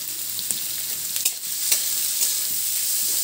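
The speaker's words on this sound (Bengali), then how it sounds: "পেঁয়াজগুলোকে দিয়ে ভালো করে ভেজে নেব।" Onions frying in a small amount of oil in a wok, a steady broad sizzle with faint scraping clicks of stirring throughout, close and continuous with no talk.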